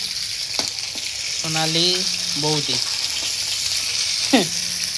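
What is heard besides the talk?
fish frying in oil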